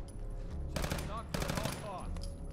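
Two loud bursts of rapid automatic gunfire in Fallout 4, separated by a short gap, close and harsh against quieter game ambience.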